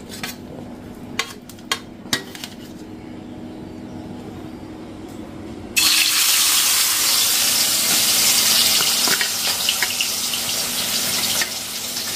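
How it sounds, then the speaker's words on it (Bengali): Rice being washed under a running kitchen tap: a few clinks of dishes at first, then a loud, steady rush of water into a vessel that runs for several seconds, with no talking. "চালটা ধুতে হবে, ভাত বসাবো।"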